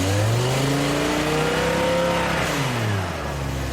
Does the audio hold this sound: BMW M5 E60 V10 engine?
yes